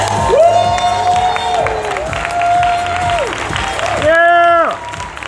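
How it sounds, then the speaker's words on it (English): Audience applause and cheering fill the room at a live event, with sustained clapping and shouts while loud, wavering tones ring over the crowd. "Give him a round of applause."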